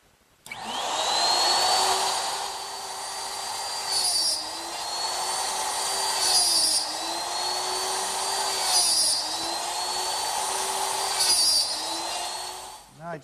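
A router running in a dovetail jig cuts half-inch blind dovetails in pine with a loud, high, steady whine. The pitch dips and the tone roughens at each of several passes, with no talk.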